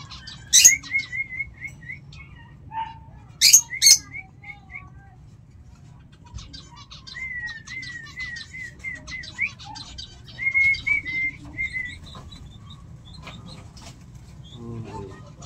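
Zebra doves kept as pets, with sharp bursts of wing flapping as they take off and scattered chirping calls nearby, over a low background hum.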